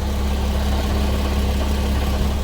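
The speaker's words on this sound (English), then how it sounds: "There's a little clacking sound. That is my catalytic converters that are blown out currently." Nissan Z with an HKS high-power exhaust with cutouts idles steadily, a constant low rumble with a faint clacking from blown-out catalytic converters, close and alone throughout.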